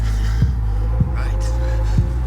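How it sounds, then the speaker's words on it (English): Heartbeat pulse in a film's musical score, three deep, thudding beats spaced roughly evenly over a sustained low hum, steady and moderately loud. "the music coming in here is a heartbeat"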